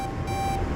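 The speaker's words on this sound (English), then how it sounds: "Oh, actually we can disarm the alarm" In the Starfield video game an alarm rings loudly as it is being disarmed, a steady electronic tone sustained with a brief dip partway through, alone with no speech.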